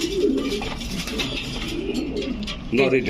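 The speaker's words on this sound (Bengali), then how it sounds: "এত বড় কবুতর" Pigeons coo in low, throaty bursts nearby at a pigeon sale, with a busy background murmur of the flock.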